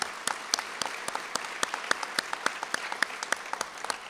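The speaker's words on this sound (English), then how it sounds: "Let's give them applause." Audience at a Veterans Day commemoration at the Reagan Library applauding, a fairly faint field of many hands with distinct individual claps standing out in a quick irregular rhythm, no speech.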